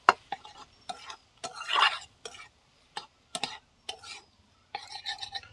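Ground spices being stirred and fried in a pan, with intermittent scraping and tapping bursts of the spoon against the pan over a faint background, close and fairly quiet.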